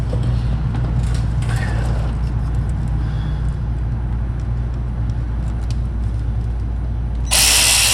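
A ratchet tightens a fitting on a 1977 Pontiac Trans Am, its clicks light and scattered over a steady low mechanical hum, ending in a sudden burst of broadband noise.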